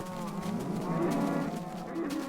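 Several Minecraft cows moo loudly in a long, overlapping drawn-out bellow that rises and falls, close and continuous.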